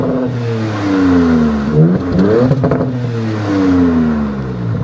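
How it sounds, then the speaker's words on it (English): A 2026 Dodge Charger on its stock exhaust revs hard, each throttle blip sweeping up and down in pitch across several loud pulls with a brief clattering burst between, close by and without talk. "These engines actually sound insane. This is a stock exhaust setup, mind you."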